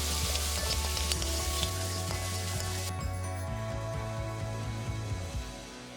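Boneless chicken and baby corn sauteing in a pan with salt and pepper, a steady close sizzle with light stirring scrapes that softens toward the end.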